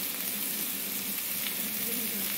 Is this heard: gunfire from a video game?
no